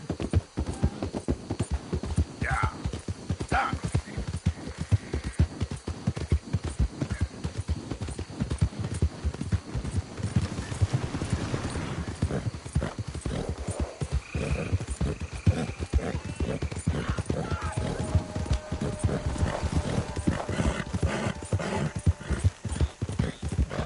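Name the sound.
horse hooves clip-clopping, video game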